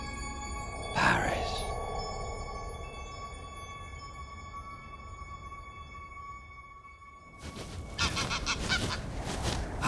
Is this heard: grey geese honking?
yes